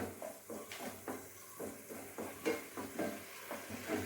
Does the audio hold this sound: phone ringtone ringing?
no